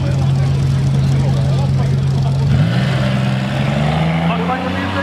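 A V6 four-door front-wheel-drive car and an LT1-powered wagon hum loudly at the start of a zip-tie drag race at Gateway Motorsports, a steady engine drone that dips and shifts midway, with a commentator talking over it.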